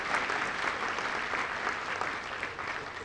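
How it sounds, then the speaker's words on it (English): Sustained audience applause at a Chattahoochee Valley Community College Hall of Fame event, a dense, even wash of many hands clapping from a large room, steady and unbroken for the whole stretch. "So let's applaud them"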